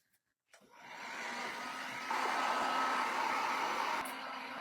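Hair dryer drying paint on a canvas sign, switching on after a brief silence and then blowing steadily with a smooth whooshing hum, close and moderately loud, no talking.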